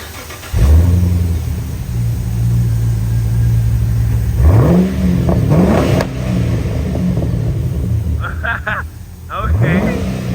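A straight-piped Pontiac G8 GT revs hard several times, loud and close, with sharp rising blips between steady idle rumble; voices talk briefly near the end.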